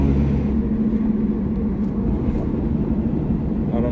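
A wrecked Subaru BRZ driving in too high a gear, a low, labouring engine rumble, steady and loud from close by, with no clear talking.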